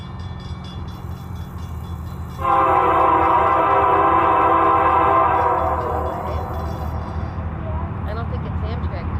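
A train rolls past on the track with a loud sustained horn blast that holds for several seconds over the rumble of the rail cars, then the rumble continues on its own.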